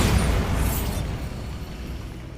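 A Bombarda spell explosion from Hogwarts Legacy bursts loud and close at the start, then its low rumbling boom decays over about two seconds with no talk.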